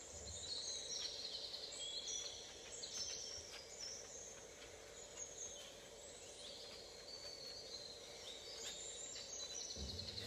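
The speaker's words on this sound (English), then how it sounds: "Listening to the birds." Birds chirp and sing outdoors in faint, scattered high calls over a soft continuous background rumble, distant and quiet throughout.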